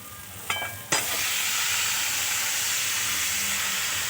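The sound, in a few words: fried potatoes and cauliflower added to sizzling masala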